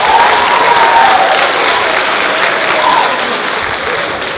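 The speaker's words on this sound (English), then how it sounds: "You can go ahead and clap, it's okay." Audience applause fills a school assembly hall, a dense, steady clatter of many hands that holds loud throughout and eases slightly toward the end.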